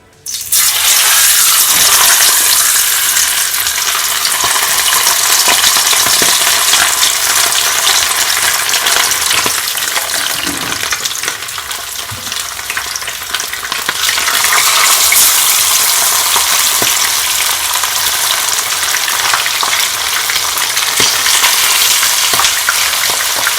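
Fish frying in hot oil in a pan for teriyaki, a loud continuous close sizzle that dips briefly midway then surges back, with no talking.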